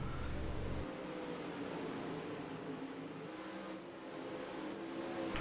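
Pro late model race cars roar around Eldora as a steady, fairly distant wall of engine noise from the pack, continuous and unbroken with no talk over it.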